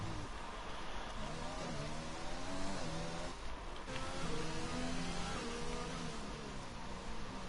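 Formula 1 car engine from an F1 racing video game at Singapore, a steady high-pitched whine rising and falling through gear changes, continuous and loud with no talk over it.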